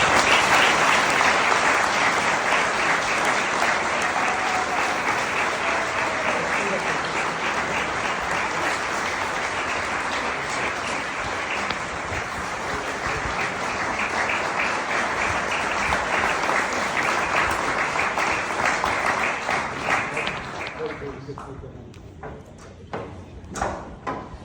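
A dense, sustained round of audience applause at a gala fills a large hall. It stays steady and loud for about twenty seconds, then thins out to scattered claps.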